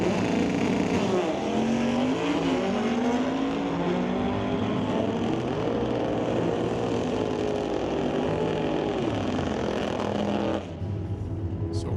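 A 1964 Comet and a 1971 VW Karmann Ghia launch in a drag race, their engines roaring loud and steady, the pitch climbing and sweeping as they pull away, with the noise dropping off sharply near the end.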